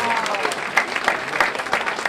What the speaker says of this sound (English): Mike, let's give a round of applause because he has done a super job this year.